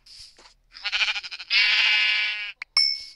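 Several sheep bleats from a video game, a short call followed by a long wavering bleat and a brief high cry, loud and close with no talking over them.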